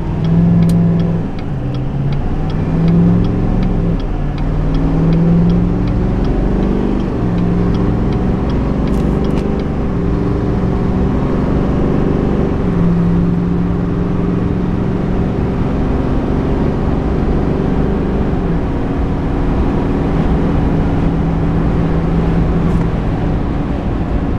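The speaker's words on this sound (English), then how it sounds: "Wide open throttle." Chevrolet Silverado Duramax diesel pickup towing a trailer under wide open throttle, a loud sustained engine drone rising through gear shifts, heard from inside the cab with no voices.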